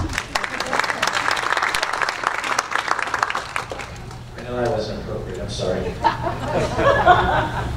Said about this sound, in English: Let's have a round of applause for Vanna.